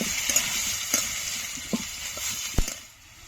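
Potatoes and papaya sauté with turmeric, green chilli and cumin powder in a pan, giving a close continuous sizzle broken by a few sharp stirring knocks and scrapes, with no voices.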